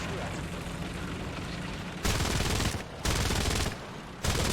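Cannon fire from the Leopard A1A1 tank's 120mm Rheinmetall gun in War Thunder: three loud, booming broadband blasts in sequence, each with a short rumbling tail, following a stretch of steady engine and battle noise.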